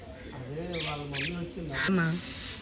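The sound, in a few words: rescued injured bird chirping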